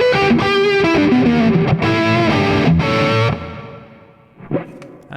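Electric guitar played through a computer app with wide reverb and distortion, sustained chords and a descending line ringing out for about three seconds, then decaying into a faint tail before a brief plucked note.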